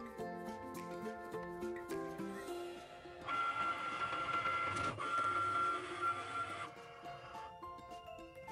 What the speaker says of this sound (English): Press the button to load your mat into the machine when it prompts you, and then again to cut the design.